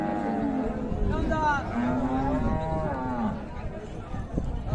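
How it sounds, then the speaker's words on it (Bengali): A Friesian cow at a Monday cattle market in Raniganj lets out a drawn-out moo, close and loud, over a rumble of crowd noise and faint voices. "ফ্রিজিয়ান জাতের বাচ্চা সহ গাভী গরু"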